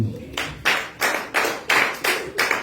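A church congregation claps in acclamation, about eight steady, evenly spaced claps, close and fairly loud with no talking.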